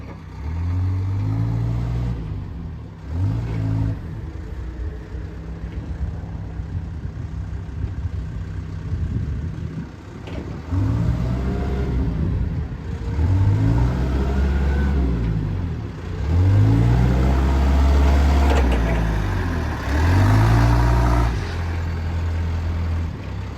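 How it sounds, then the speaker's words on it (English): A 2006 JCB 930 rough terrain forklift, a 6,000-pound two-wheel-drive machine, runs steadily with its engine rising and falling in repeated revs over a constant low rumble, close and loud, with no talk. "Motor really runs good on it."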